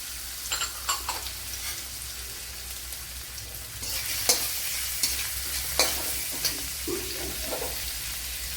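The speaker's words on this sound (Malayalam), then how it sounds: "ഇവിടെ ഒരു ടേബിൾ സ്പൂൺ വെളിച്ചെണ്ണ ഒഴിച്ചു കൊടുത്തിട്ടുണ്ട് അതിലേക്ക് ഒരു പത്ത് വെളുത്തുള്ളി ചെറിയ പീസ് ഇഞ്ചി ചതച്ചത് ഇട്ട് കൊടുക്കാം" About ten garlic cloves and crushed ginger frying in a tablespoon of coconut oil make a steady close sizzle, broken by repeated scraping and stirring clicks of a spoon against the pan, with no talking.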